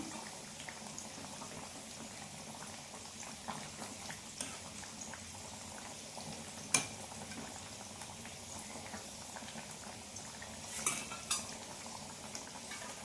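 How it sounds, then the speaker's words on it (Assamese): A pot of mixed vegetables, dal with tomato and fish curry simmers with a soft, steady bubbling hiss, and occasional faint clinks of a utensil against the pot break through, close but quiet. "পাচলি আৰু দালি একেলগে বনাইছোঁ বিলাহী দি পেলাই, লগত মই মাছ দি দিলোঁ।"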